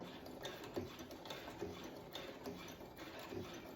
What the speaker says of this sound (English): I'm gonna sew a little bit of a catty corner